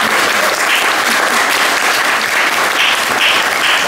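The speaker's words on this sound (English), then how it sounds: "So I think we should begin by giving her a round of applause." Steady, dense applause from a folk festival audience fills the whole stretch, loud and continuous with no voices on top.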